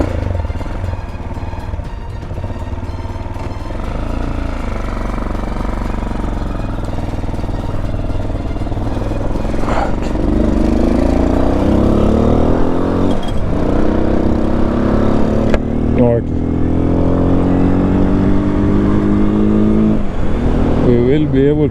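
Levhart LV200 GY-3 motorcycle engine droning steadily while riding in fourth gear on a flat, slightly downhill road, loud and close with rising revs and wind noise throughout.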